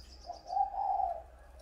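One mellow dove coo swells and sustains briefly, close by, with faint high chirps in the background and no talking.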